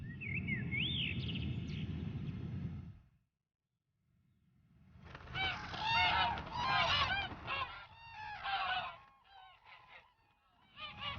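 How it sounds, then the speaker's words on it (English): Geese honking as a flock turns east over the plain from the plateau along the Great Wall, loud repeated calls in bursts, broken by a short silence before a dense chorus of overlapping honks. "the geese turn east, flying into the plain from the plateau."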